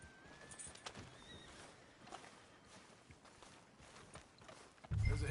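Horse in Red Dead Redemption 2 moving at a walk, with soft clip-clop hoofbeats, a whinny, and game ambience underneath, ending in a louder low rumble.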